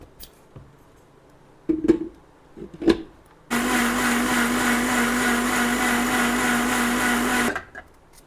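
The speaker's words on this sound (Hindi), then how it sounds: "अब इसे करेंगे ग्राइंड।" A few light knocks and clinks, then a mixer grinder grinding tamarind chutney whirs loudly and steadily for about four seconds before stopping.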